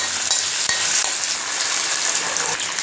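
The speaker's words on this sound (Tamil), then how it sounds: "தக்காளி நல்லா பழமாக இருக்கட்டும் அதையும் போட்டு நல்லா வதக்கலாம்" Onions and ripe tomatoes sauté in a pan for a Tamil garlic kuzhambu, giving a continuous close hiss and sizzle with a few faint clicks of stirring.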